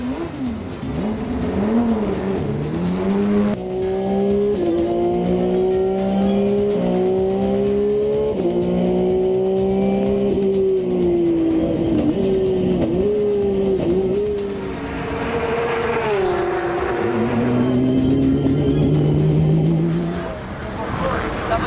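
A race car at speed on a fast lap with a passenger aboard, its engine note rising and falling loud and close through gear changes and braking for most of the stretch.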